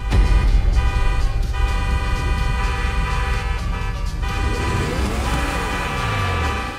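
Car horns blare and overlap continuously in GTA 5 Online traffic, steady sustained honking layered over engine rumble throughout, with a tonal sweep near the end.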